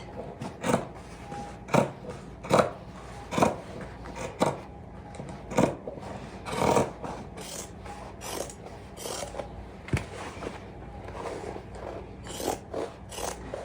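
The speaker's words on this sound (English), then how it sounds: "I'm going to open this up so I can see where the seam is and cut along it" Sharp scissors snipping through fabric along a seam while sewing a harvest apron, a run of short crisp cuts spaced about a second apart, close and fairly loud with quiet pauses between.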